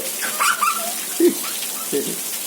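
Rain patters steadily in the background while a few short dog whimpers and yelps break through.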